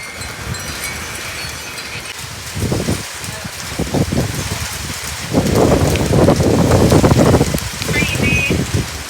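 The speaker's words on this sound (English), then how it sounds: "It is raining heavily now." Heavy rain pours during a haboob dust storm in Phoenix, Arizona, a steady broadband hiss that swells louder in the second half, with wind and people talking over it.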